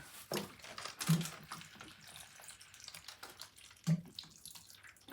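Liquid plant food dripped onto the damp soil of an indoor houseplant during a New York winter, heard as soft watery trickles and two distinct splashes, close by with no talk.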